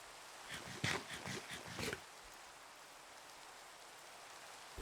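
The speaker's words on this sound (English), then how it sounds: "I have to wait for it to rain, which it is right now." Steady video game rain hisses in the background while a burst of pattering, rhythmic taps rises briefly and then fades back into the constant wash.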